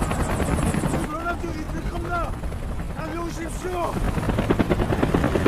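An approaching and landing helicopter's steady rotor drone fills the scene, with broadband rumble throughout and brief voices and shouts over it.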